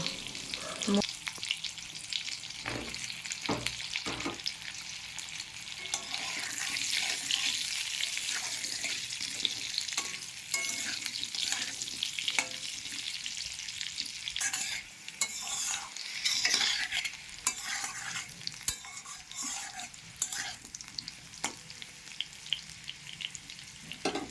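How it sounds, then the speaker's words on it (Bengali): Potatoes frying in oil left over from frying prawns, a steady soft hiss of hot oil with frequent scraping stirs of a spatula, fairly quiet and close, no voices. "মাছ ভাজা তেলের মধ্যে আলুগুলো দিয়ে একটু ভেজে নেব"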